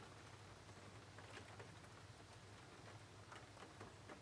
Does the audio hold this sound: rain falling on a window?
yes